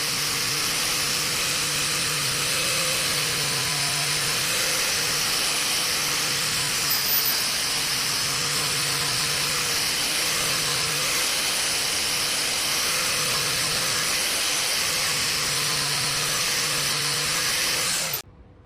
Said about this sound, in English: buff the surface using a polishing wheel and polishing wax